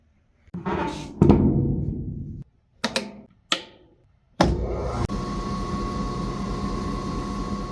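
A rock saw cuts into a large slab of petrified wood from Utah's Circle Cliffs: several short clattering and grinding bursts give way to a steady whirring cut that runs through the rest, close and with no voices.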